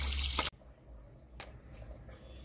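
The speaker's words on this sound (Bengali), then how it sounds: "মাছগুলোকে ভালো করে আমি ধুয়ে নেব" Small fish being washed in water, with a loud splashing burst at the start, then quieter drips and trickles and a brief second splash.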